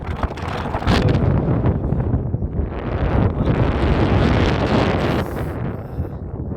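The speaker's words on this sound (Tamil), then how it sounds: "அப்படியே சில்லுன்னு ஒரு காற்று அடிக்குது" Cold wind gusts loudly across the microphone in a hill village on a mountain slope, a continuous rushing roar that swells and eases over several seconds, with no voices.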